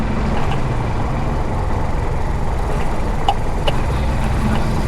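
A motorcycle rides along a newly built road under construction in San Mateo, Rizal, its engine giving a steady, close, low rumble with wind noise, continuous for about five seconds with no talk.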